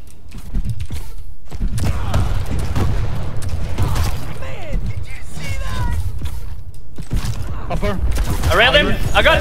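Rocket launcher blasts and railgun shots in the arena shooter Quake Champions, heavy booming impacts and sharp cracks over a constant roar of game action, with a player talking excitedly throughout.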